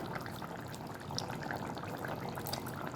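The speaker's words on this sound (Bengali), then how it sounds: "মাছগুলো ঝোলের মধ্যে ফুটছে" A red fish curry with potato and papaya simmers in a pot, giving a steady, faint bubbling and sputtering that runs evenly throughout with no voices.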